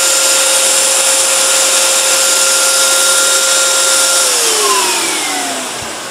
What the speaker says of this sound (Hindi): मैं इसको चालू करके इसका साउंड भी सुना देता हूँ आपको कि इसका मोटर कैसा आवाज़ करता है और कितना क्या पावरफुल है